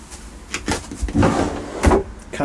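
Caravan kitchen drawer and cupboard being opened, a few soft knocks, slides and thuds spread irregularly at close range with faint background room sound.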